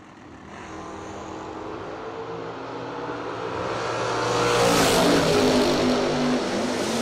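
A wheel-standing Camaro drag car launches off the line, its engine roar building from a low rumble to a loud, rising howl that swells over several seconds.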